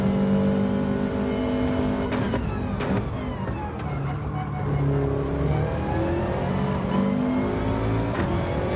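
Race car engine in a racing video game on the Brands Hatch short circuit, a loud continuous whine that rises and falls through gear changes and throttle lifts, steady from start to finish.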